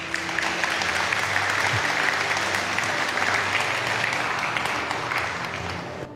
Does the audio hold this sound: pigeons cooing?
no